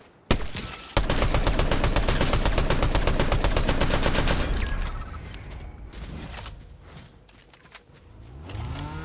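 Rapid bursts of automatic gunfire from a Fortnite match, loud and dense for about four seconds, then scattered lighter shots and clatter trailing off, with no talk.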